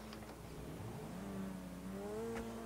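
A Turismo sports car engine revs in a game, its rising and falling harmonic whine steady and fairly loud throughout, with no talk over it.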